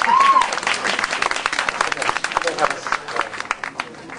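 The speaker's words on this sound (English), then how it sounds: "let's give her big round applause" An audience at a magic show claps loudly and continuously, with a short whistle at the start and cheering mixed into the applause.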